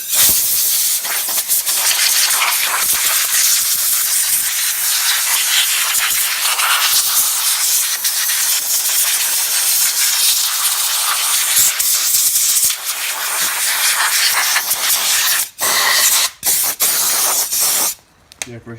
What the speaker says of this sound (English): All we really need to do is just airbrush it off.